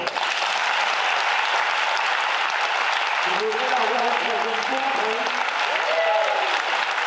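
Sustained loud applause for a cabaret performer fills the room, a steady dense wash of clapping with a voice talking over it partway through.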